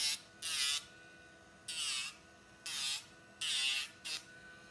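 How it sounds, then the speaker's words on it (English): A Dremel rotary tool fitted with a sandpaper attachment grinds down cut zip-tie ends in five short whirring bursts separated by pauses, close and fairly loud with no talking. "This is just the sandpaper attachment on the Dremel here."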